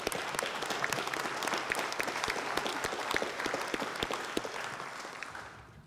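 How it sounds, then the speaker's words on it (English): Steady audience applause at a Memorial Day ceremony in Carmel, dense clapping from a crowd that holds evenly for several seconds before thinning out at the very end. "Can we give these amazing people a round of applause?"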